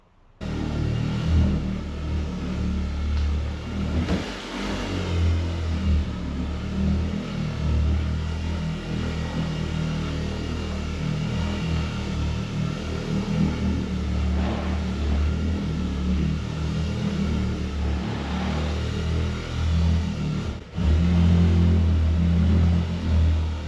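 Rotary buffer pad running steadily over a 2020 Ford F-150 with polish, a continuous low whirring drone with slight pitch swells, close and unbroken, briefly cutting out and restarting near the end.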